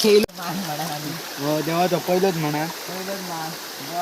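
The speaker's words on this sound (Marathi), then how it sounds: "आपण पाण्याचा आवाज पाहू शकता" Water of a forest stream in the Konkan countryside rushes with a steady, close hiss for the whole stretch, while voices talk over it for most of the time.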